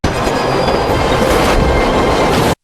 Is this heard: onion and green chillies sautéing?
no